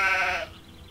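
A sheep in the video game Gothic II lets out a single loud, close bleat that fades after about half a second, leaving a quiet background.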